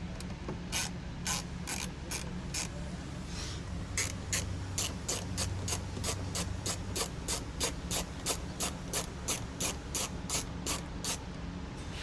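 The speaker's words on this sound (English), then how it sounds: "Go ahead and get this nut off." A hand ratchet backs a nut off on a Polaris Ranger 1000 Northstar, a rapid, even run of sharp metallic clicks in quick bursts, heard close and loud with no talking.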